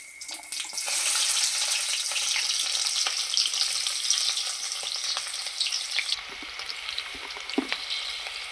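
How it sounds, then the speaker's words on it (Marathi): Chopped onion frying in hot oil left from browning paneer for a masala, a loud, dense sizzle close by that thins out after a few seconds, with a couple of faint knocks and no talking. "आता आपण ह्याच तेलामध्ये सुरुवातीला कांदा भाजून घ्यायचा"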